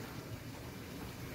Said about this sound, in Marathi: आता मी तळायला चालू करते पुऱ्या.